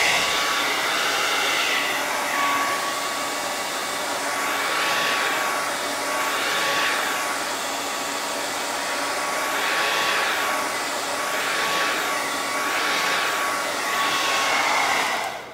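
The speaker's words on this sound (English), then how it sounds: "We're gonna get the blow dryer." A hair dryer with a cool-air setting blows steadily to dry paint on a stenciled wooden stove top cover noodle board, a loud continuous whoosh whose pitch rises and falls gently as it moves, with no talking.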